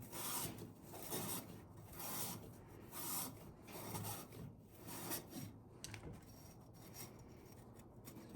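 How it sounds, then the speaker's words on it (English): A screwdriver scrapes and works around inside the water pump housing of a 2004 Suzuki LTZ 400 ATV, producing continuous rough rasping strokes in a steady back-and-forth rhythm, faint and close. "Sometimes you can put a screwdriver in there. Just kind of work it around."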